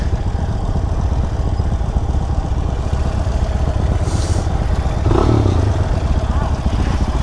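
A Harley-Davidson motorcycle engine idles with a steady low rumble, close and constant, with a short swell of revving and clatter near the end.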